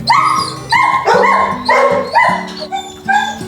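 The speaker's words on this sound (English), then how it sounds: "So many dogs barking" Many dogs bark and yelp at once in a reverberant animal shelter, overlapping in a steady chorus of high and low barks with no pauses.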